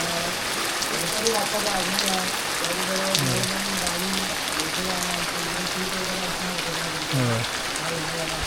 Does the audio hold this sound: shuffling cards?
no